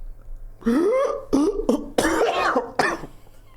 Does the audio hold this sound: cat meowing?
no